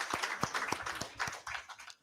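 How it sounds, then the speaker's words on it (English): An audience at a health presentation applauds: a thin, fairly quiet patter of clapping from a small crowd, with sharp individual claps standing out over a few seconds. "Another round of applause for Dr."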